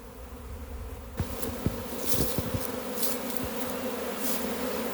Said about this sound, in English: The bees are all coming to the box now.